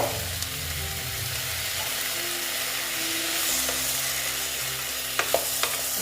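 Drumstick stalks fry with mustard-poppy paste in a pan, a constant near sizzle with scraping stirring strokes and a few sharp clicks of a utensil near the end, no voices.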